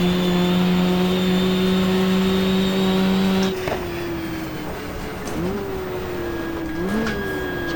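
Race cars roaring through the 1994 Jarama circuit in the GTR2 racing game: a loud, steady engine drone that drops sharply after a few seconds and is followed by rising revs and gear changes as cars pass.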